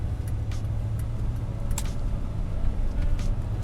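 A 1990 Chevrolet Silverado 1500 pickup, original owner with 54k miles, drives along with a steady low engine and road rumble, fairly close and constant, with no voices.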